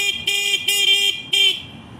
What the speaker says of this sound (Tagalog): pinutin mo muna yung busina mo